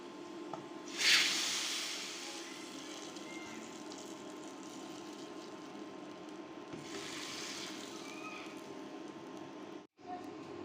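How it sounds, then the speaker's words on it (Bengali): Fried onion and garlic tempering poured into cooked dal gives a loud hissing sizzle that bursts up and fades over a couple of seconds, then a second softer sizzling swell comes later over a steady kitchen background. "এখন ডাল বাগার দিয়ে দেবো।"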